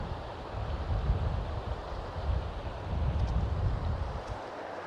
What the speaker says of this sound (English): Got quite a wind here